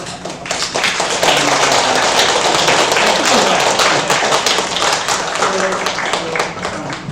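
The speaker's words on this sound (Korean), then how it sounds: "박수." A church congregation applauding at a certificate ceremony during Sunday worship, loud, close, dense clapping that continues steadily throughout, with a few murmured voices.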